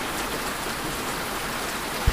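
Rain pours in a steady, even hiss like a downpour, used as an effect under a dark horror tale, with one brief low thump near the end and no talking.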